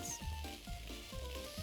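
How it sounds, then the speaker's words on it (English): Onions sizzle in hot vegetable oil in a frying pan in a cooking video game, with a steady fry hiss and a run of regular scraping stir strokes, about one every quarter second. "We have vegetable oil heating up in the frying pan here."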